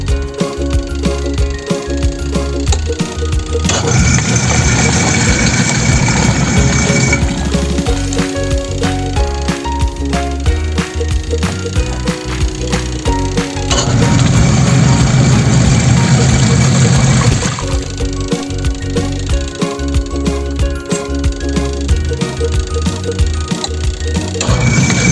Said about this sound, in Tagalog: lagyan pa rin po natin ng damit para mas makita po natin kung talagang kaya po ng gulong ng motor na paikutin po yung hélice